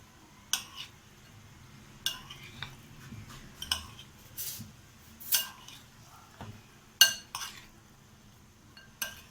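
Chicken pieces being mixed by hand in a bowl with garlic and ginger marinade, with a series of sharp clinks and taps of a utensil against the dish, spaced irregularly over quiet, soft background rustling.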